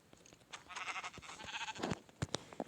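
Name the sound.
sheep bleating in a video game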